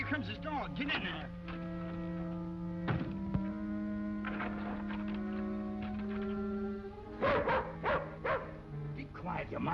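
A dog in an old western TV drama barks and whimpers in broken bursts, yelping clusters early and late with whining in between, close and clear over a low background hum.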